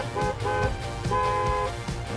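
A car horn toots repeatedly in busy Romford street traffic, several short honks in quick succession layered over the rumble of idling vehicles.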